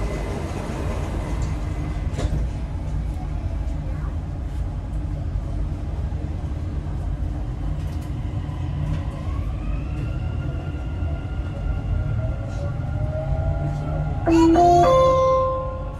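A Dubai Metro train runs with a steady low rumble and hiss throughout, a faint rising motor whine building midway, and a louder burst of tonal electronic chimes near the end.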